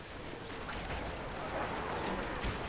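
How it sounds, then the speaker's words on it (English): Freezing rain in the real-time strategy game Rise of the Witch-king makes a steady, dense hiss of falling rain, fairly soft and continuous throughout. "Now, what you're hearing is freezing rain, which I forgot to mention is actually active."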